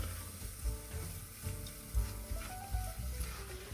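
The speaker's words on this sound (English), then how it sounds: "I've melted the butter, and now we're going to add the flour." Butter and flour roux sizzling and frying in a pot as a soufflé base is cooked out, a steady close hiss with soft stirring scrapes and no talk.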